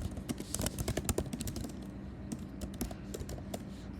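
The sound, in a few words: typing Java boilerplate code on a computer keyboard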